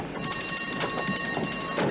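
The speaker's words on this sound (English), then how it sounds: "Oh, now the alarm goes off." An alarm rings continuously in a film scene, a steady bright electronic tone with pulsing bursts, fairly loud and alone for about two seconds.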